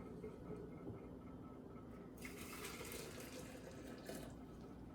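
Hot water pours into a French press for coffee, a soft, steady trickling stream that brightens into a splashier gush partway through, quiet and close with no talking.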